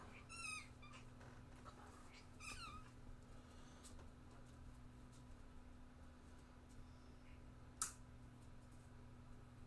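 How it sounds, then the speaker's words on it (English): A cat gives a few short meows early on, faint against a steady low household hum, with a sharp tick near the end. "I hope she's not meowing for food because I literally just fed her"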